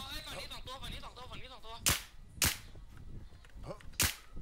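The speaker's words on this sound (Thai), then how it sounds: "มีคนยิงกูมีคนยิงหัวกู" Several sharp, loud gunshots crack out in the shooter game Warz, spaced about half a second to a second and a half apart, following excited shouting from players.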